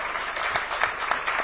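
An audience at a global CEOs panel discussion claps in steady, dense applause throughout, with no voices on top.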